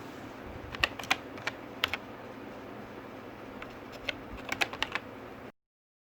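Computer keyboard typing a login username, short bursts of crisp close keystrokes in quick clusters separated by brief pauses, alone against a quiet room.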